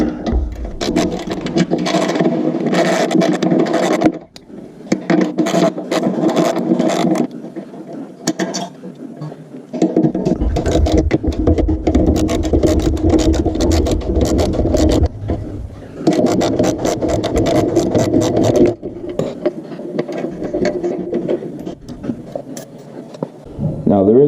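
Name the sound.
13mm wrench or socket loosening Harley Davidson fender bolts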